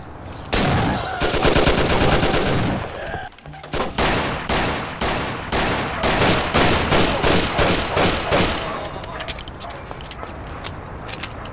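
Shotgun blasts ring out in the Mafia video game, a rapid series of loud, sharp reports in close succession following a burst of dense rattling fire, with a fading tail.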